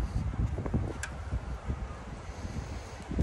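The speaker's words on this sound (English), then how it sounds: "It's so windy." Wind blows outdoors and buffets the microphone in a steady low rumble with gusty swells, no talking.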